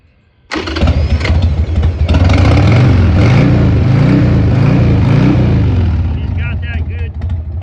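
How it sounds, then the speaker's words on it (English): A 1999 Harley-Davidson XL1200C Sportster with a Screaming Eagle exhaust starts with a sudden burst and settles into a loud, close, lumpy V-twin idle with rising and falling revs, and a voice is heard briefly near the end. "Screaming Eagle exhaust. She sounds real nice to me."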